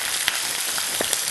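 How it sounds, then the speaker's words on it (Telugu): Mustard seeds splutter and crackle in hot oil for corn upma, a dense steady sizzle broken by a few sharp pops, close and loud with no talking. "ఇలా చిటపట్లాడుతున్నాయి ఆవాలు."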